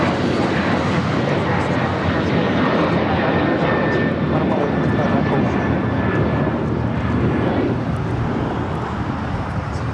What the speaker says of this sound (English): Alaska Airlines Flight 6 heading to Reagan National, 737-800, now taking off.